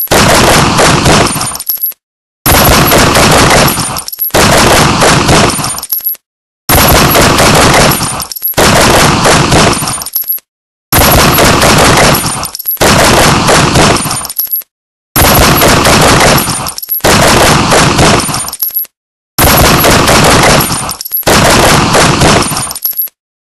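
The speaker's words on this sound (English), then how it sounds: "They're shooting at us!" Very loud, sustained automatic gunfire from people shooting, in long continuous bursts of several seconds each, separated by short silent breaks and repeated about nine times.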